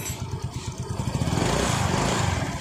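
Yamaha Fascino scooter engine, just self-started after a starting-problem repair, running at a steady idle with a rapid, even putter, close and moderately loud, heard alone with no talk.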